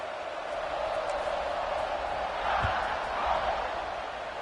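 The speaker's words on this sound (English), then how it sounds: "this crowd is feeling themselves after that last drive" Football stadium crowd at an LSU game, a broad, steady roar of cheering voices from far away, swelling slightly midway, with no clear talk over it.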